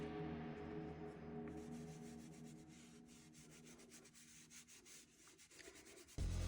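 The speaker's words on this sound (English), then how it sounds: "So you can see I'm just rubbing it on." Paint being rubbed by hand onto the surface of a laser-cut LED sign, a steady close scraping and rubbing texture with small rhythmic strokes, ending in a sudden louder bump.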